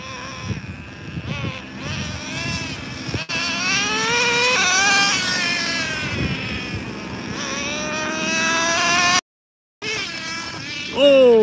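A nitro RC car engine, a Slayer, running at an RC track, with a high buzzing whine that rises and falls in pitch as the throttle changes, loud and continuous with a brief cut near the end.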